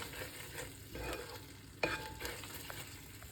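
Mixed seafood tips into a pan of simmering curry. Steady sizzling and stirring run throughout, with a soft splashy thump partway through, close up and without speech.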